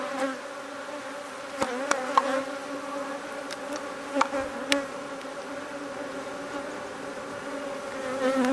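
Honeybees buzzing in an open hive during an August inspection, a steady, droning hum with several individual bees zipping close past, plus a few light clicks and knocks from handling, no talking.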